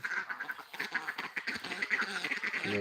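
Ducks quack repeatedly in a busy, overlapping chorus outdoors on a fish pond, with steady background noise and no talking.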